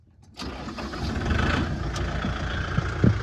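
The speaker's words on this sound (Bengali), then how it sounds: "এটা হচ্ছে তোমার নর্মাল মোটামুটি ধরো 900 আরপিএমে আপাতত চলছে, 900 আরপিএমের এটা সাউন্ড" A Kubota MU5501 tractor with about 3,667 hours fires up after a brief silence, then its diesel engine settles into a steady, close, rumbling idle at roughly 900 rpm.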